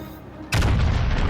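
Warship main guns fire in World of Warships Legends, a sudden loud booming blast that swells into a sustained rumbling roar after a quiet lead-in, with no talk over it.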